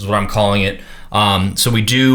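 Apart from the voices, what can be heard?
No everyday noises stand out.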